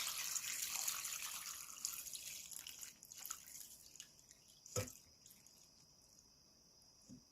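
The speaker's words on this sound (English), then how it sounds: "I'm going to fill this up with water." Water running from a tap into a pot for a hot toddy, a faint splashing trickle that thins out over several seconds, with a sharp knock midway and a quiet finish.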